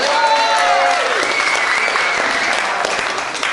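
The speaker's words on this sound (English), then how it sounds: "Clap it up" An audience at a Friday Night Out spoken word showcase claps loudly and steadily throughout, a dense wash of many hands with a few voices calling out near the start.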